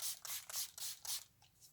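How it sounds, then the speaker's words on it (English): Gerard Cosmetics Slay All Day setting spray in Rose misted from a pump bottle, about six quick, close hissing spritzes in an uneven rhythm, each a short airy burst, with no talking. "we have setting spray, Gerard Slay All Day in Rose"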